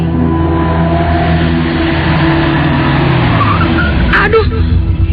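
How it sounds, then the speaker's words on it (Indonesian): A car, apparently slowing to a stop, rumbles steadily with a loud low engine drone and a falling pitch, a brief tire squeal or skid sound near the end, and a voice talking over the engine noise. "Erin menghentikan kembali mobilnya"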